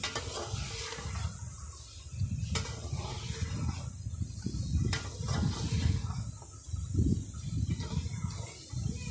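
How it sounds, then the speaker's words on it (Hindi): Ginger garlic paste stirred in a hot pan for a mutton dish, a loud continuous sizzle and hiss under repeated scraping strokes of a spoon, close and steady throughout with no talking. "अब इसमें हम डालेंगे 2 चम्मच अदरक लहसुन का पेस्ट"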